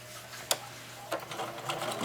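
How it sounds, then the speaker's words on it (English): A sewing machine stitches the bottom of a recycled denim jeans bag closed with a half-inch seam, giving faint, brief ticking and clicking over a low hum, a few sharp taps standing out. "We're going to sew the bottom completely closed"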